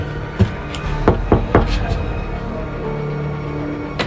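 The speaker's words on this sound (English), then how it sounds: "Okay, I knocked on the door." Several sharp knocks land on a door in an indoor room, a few separate raps spaced unevenly over a quiet background hum.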